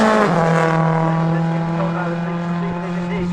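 A BP Ford Abu Dhabi World Rally Team car, Mika Hirvonen's number 3, roars loudly and close with a sustained high engine note that drops slightly in pitch as it passes on a Wales Rally GB stage.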